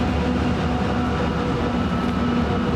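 A train rolls past beside a disc golf course at a tournament final round, a loud, steady rumble with a sustained hum that carries throughout, with no talk over it.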